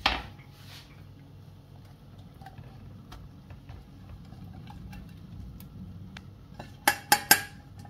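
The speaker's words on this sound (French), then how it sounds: "Donc, on va transvaser la béchamel." Utensils scrape quietly against pans while béchamel sauce is transferred for seafood bouchées à la reine, ending in a few sharp, close metallic clinks near the end.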